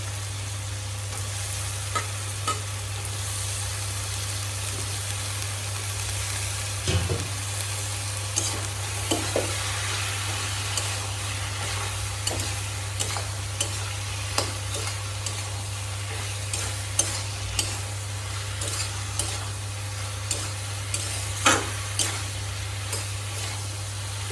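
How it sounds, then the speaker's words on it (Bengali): Eggplant pieces fry in a pan with spiced potatoes, giving a continuous moderate sizzle over a constant low hum, with occasional small clicks and spoon taps and no talking. "বেগুনটা হালকা একটু ভেজে নেব"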